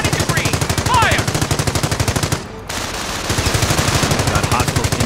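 Rapid automatic gunfire and a recoilless rifle in the World War II strategy game Company of Heroes, a loud steady burst of shots that breaks off briefly mid-clip before resuming, with a faint voice underneath.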